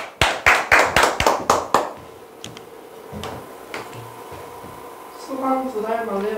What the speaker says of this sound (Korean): 화이팅! 박수!